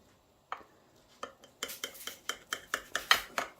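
A knife cuts through a flourless chocolate cake on a plate or dish, starting with a few separate taps and then turning into a quick, regular run of sharp scraping clicks against the dish.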